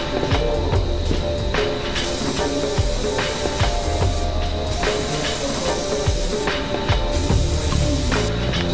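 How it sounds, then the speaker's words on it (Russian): An aerosol can sprays plastic primer onto a car headlight during headlight restoration, giving a loud, steady hiss that pulses in several long bursts with short pauses between them. "Баллончик нормально распыляет,"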